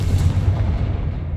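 A Confringo blasting spell explodes in Hogwarts Legacy, a loud, dense rumbling boom that sustains through the whole moment with heavy low-end and crackling texture.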